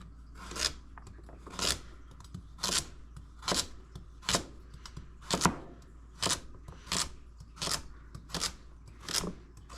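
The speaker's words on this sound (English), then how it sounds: "Start with this big one. I'll chop it in half first." A knife cuts through a large garden-grown carrot on a board, producing about ten evenly spaced, crisp crunching strokes, close up and alone.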